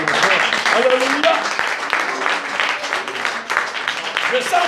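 A church congregation applauds in a dense, continuous wash of clapping mixed with voices, sustained throughout at a strong level.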